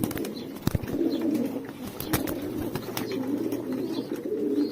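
Pigeons coo and shuffle in a loft where a parent bird is feeding its squabs, low repeated cooing with clicks and light wing sounds, no speech.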